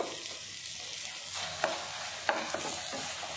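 Coriander leaves sauté in oil for raw mango rice with a steady crackling sizzle, punctuated by two or three light clinks of the stirring spoon against the pan, close and without speech.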